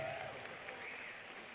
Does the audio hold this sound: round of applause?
yes